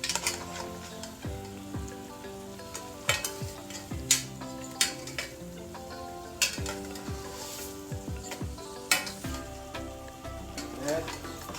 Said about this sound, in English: After adding the fish, you want to use a spoon and get some of the gravy on top